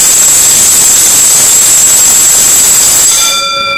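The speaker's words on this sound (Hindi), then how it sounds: "इस तरीके से ये गोंग बेल बजती है।" An electric gong bell for schools, factories and offices rings continuously as a loud, steady metallic buzz with a piercing high tone, then cuts off and leaves a short ringing decay.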